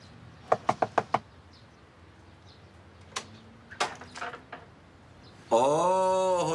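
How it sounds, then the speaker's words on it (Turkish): Four quick sharp knocks on a door, fairly close and loud, followed by scattered quieter bumps and then a sustained harmonic tone that sounds like music or a doorbell chime. "Evet. Çalın kapıyı."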